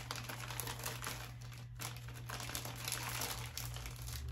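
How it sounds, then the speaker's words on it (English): A plastic grab bag being opened gives close, continuous crinkling and crackling with small bursts of rustling throughout. "Sorry for the crinkling."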